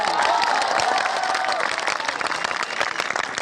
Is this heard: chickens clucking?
no